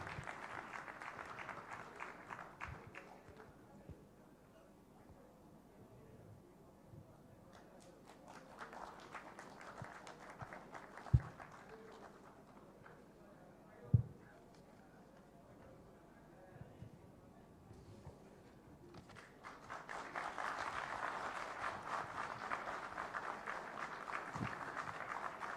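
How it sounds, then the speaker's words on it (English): Applause at the close of a shipping symposium session on seafarers' recruitment and welfare: bursts of clapping come and go between quieter stretches, with a couple of sharp knocks, the final swell louder and fuller. "Please put your hands together."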